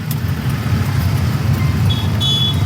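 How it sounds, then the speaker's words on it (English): A car driving along a narrow, busy road with cyclists and people crossing, a steady close engine rumble and road noise throughout, with brief high beeps near the end. "I'll be driving on more narrow roads"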